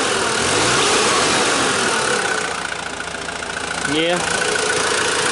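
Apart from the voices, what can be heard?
Mazda WLT diesel engine idling after injection timing advance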